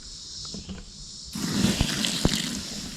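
Drained noodle water poured onto a smoldering campfire in a Dakota fire pit, a sudden rush of splashing and hissing that starts abruptly partway through and stays loud, with a couple of sharp pops.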